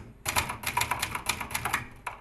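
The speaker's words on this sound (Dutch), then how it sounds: "zoals een typemachine" A typewriter clatters in fast, uneven bursts of crisp mechanical key strikes, played live as a sound effect, with a brief pause before one last clack.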